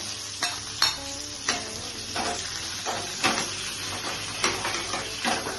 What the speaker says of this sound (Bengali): তাহলে এখন লাইট করে ফ্রাই করব